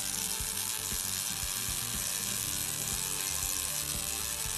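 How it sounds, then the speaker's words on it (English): An RMD pipe welding arc, with the wire held in the weld puddle, crackles and buzzes in a steady, even sizzle with fine rapid ticking, close and unbroken, with no talk. "When the wire speed is properly positioned in the weld puddle and the travel speed is correct, the arc sounds like this."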